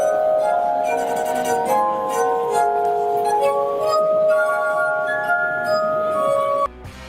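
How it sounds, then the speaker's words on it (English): Glass harp made of drinking glasses tuned with water, played by a street performer: sustained, ringing pure tones that overlap in slow chords for several seconds, loud and alone, then cutting off abruptly near the end. "This simply stunning glass harp creates a hauntingly beautiful sound, just like the heavenly string instrument."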